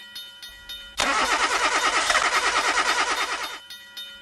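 A car engine cranks and sputters in a rapid pulsing rhythm for about two and a half seconds, then cuts out and stalls, loud and close, with near silence before and after.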